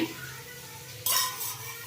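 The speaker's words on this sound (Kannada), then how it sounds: "ಕುಕ್ಕರ್ ಬಿಸಿ ಆಗಿದೆ, ಎಣ್ಣೆ ಹಾಕ್ಕೊಳ್ತಾ ಇದ್ದೀನಿ" Oil hitting a hot pressure cooker bursts into a sudden loud sizzle that then settles into a steady hiss, following a quiet stretch with faint kitchen clatter.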